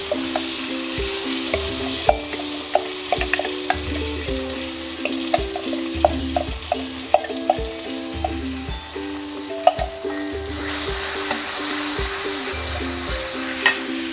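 Ground chili paste frying in a pan for sambal goreng rambak, a constant close sizzle broken by small pops and the clack of stirring.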